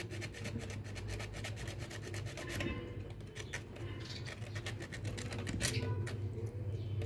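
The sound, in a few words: sanding electric blender part with sandpaper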